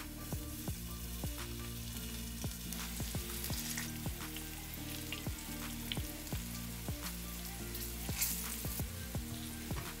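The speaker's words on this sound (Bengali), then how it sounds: "আমার তেলটা গরম হয়ে গেছে। এখন আমি একে একে ফুলকপিগুলো এতে দিয়ে দিব।" Cauliflower pieces frying in hot oil for a mustard-paste cauliflower curry, a continuous crackling sizzle heard under steady background music with a plucked melody.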